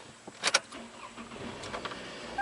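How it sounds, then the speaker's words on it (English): A car engine starting during a brake light fault check, with a brief loud cranking burst near the start, then a quiet idle and faint mechanical clicks; no talking. "First, I'll start the engine."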